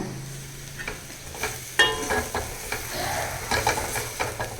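Grated coconut is stirred into a hot pan for doddapatre thambuli, its gentle sizzle broken by a series of spoon scrapes and clinks against the pan, close up with no speech.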